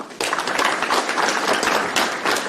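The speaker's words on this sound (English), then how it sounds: "Give him a round of applause." Audience applause at a Cicero town board meeting: a steady patter of many hands clapping in a room, moderately loud and continuous for a couple of seconds.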